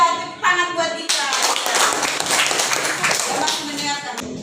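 A school class claps hands together in a classroom, a short burst of close, quick claps that begins after brief vocal sounds and continues evenly for a few seconds.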